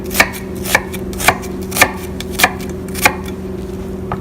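A knife chops vegetables for minestrone soup on a cutting board, six evenly spaced, crisp strikes about half a second apart, close and clear over a steady background hum.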